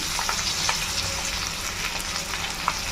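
Potatoes frying in a pan with turmeric, salt and pepper, a continuous loud sizzle with occasional stirring scrapes and pops and no talking.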